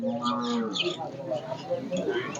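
A cow moos at the Zharkent livestock market in Kazakhstan, two or three nearby lowing calls in quick succession over background chatter and market noise.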